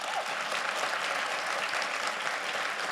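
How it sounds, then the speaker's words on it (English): A crowd at a high school graduation ceremony applauds in a steady, dense wash of many hands. The sound is even and sustained, moderately loud, and carries no talk. "I ask for a big round of applause for them."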